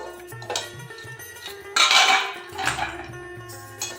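Jute leaves being stirred in a wok during frying, heard as a few close metal scrapes and clanks of a spatula against the pan with quiet gaps between, and no talking.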